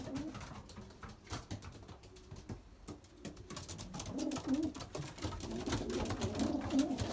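Belgian racing pigeons coo inside their loft, low throaty calls repeating in overlapping rounds, close and fairly soft amid light rustling.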